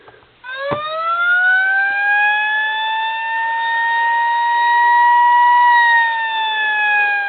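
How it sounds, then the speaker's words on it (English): A 1:32 scale Seagrave FDNY Engine 88 diecast fire engine model plays its electronic siren, a loud, steady wail that rises sharply after a brief click, then holds high and sustained for several seconds. "Press it once, it'll play through. 15-20 seconds worth of siren."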